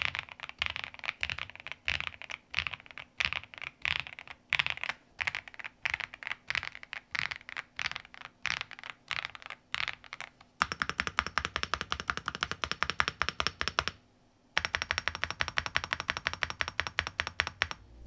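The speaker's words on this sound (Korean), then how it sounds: "이 8K로 타건했을 때는 좀 더 하이톤의 타건음이 나오고 단단하면서 깔끔한 느낌이 추가가 됩니다" Typing on mechanical keyboards, including a new 8K keyboard: brisk, close clacking keystrokes in quick bursts, with short pauses and a change to a brighter, harder-sounding board partway through.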